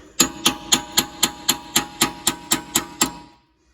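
A chisel is hammered into the rear exhaust pipe joint of a Land Rover Defender TD5 to split the old gasket, twelve sharp metallic strikes at a steady, quick rhythm, close and loud, then stopping.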